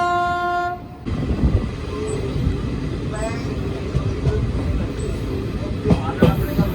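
The 12326 Nangal Dam–Kolkata Gurumukhi Superfast Express runs behind a WAP7 electric locomotive, heard from on board as a steady loud rumble and clatter with a few brief squeals, after a horn-like tone at the very start.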